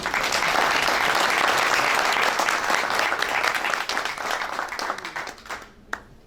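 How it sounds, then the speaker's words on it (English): Audience applause at an award program honoring a Special Olympics swimmer, a steady wash of clapping from a crowd that holds strong for several seconds, then tapers off with a few last claps. "I think that deserves a round of applause."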